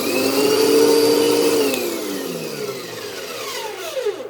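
A loud Moosoo U1400-A vacuum cleaner whines close by in a living room, its motor pitch sliding down and then changing as it shifts modes.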